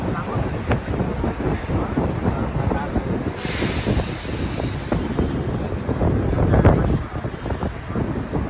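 Strong wind buffets the microphone continuously on the top deck of an open-top bus in Manhattan, a heavy rumbling roar, while a voice talks underneath.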